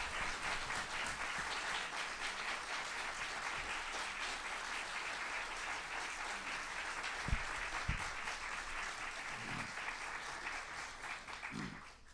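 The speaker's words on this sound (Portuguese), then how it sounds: "Essas palmas já dizem tudo sobre a conferência de João Waldo Ribeiro" Applause from an audience follows a literary conference on Jorge Amado, sustained and even clapping throughout, with a couple of sharp low knocks midway and the clapping tapering off at the end.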